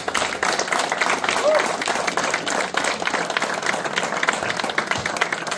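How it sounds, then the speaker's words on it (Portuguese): Audience applause for José Farias, president of Ajuda da Bretanha, at the opening of the Festa do Milho, a steady dense clapping that holds for several seconds with voices mixed in. "quem peço uma salva de palmas"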